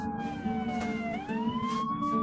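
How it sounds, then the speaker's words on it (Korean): Police car and ambulance sirens passing on a city street, wailing tones that sweep and bend in pitch as they go by, fairly close over steady traffic noise. "거리를 지날 때 경찰차와 구급차가 옆을 지나쳐가."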